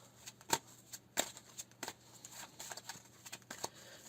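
Tarot cards are shuffled in a quiet room, soft papery riffles and sharp flicks coming in irregular bursts, close and faint, with no voice.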